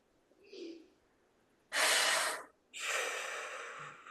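Heavy, forceful breaths during a breathing-focused exercise class: a faint sniff, then a long loud exhale and another drawn-out rushing breath, close to the microphone with no talk.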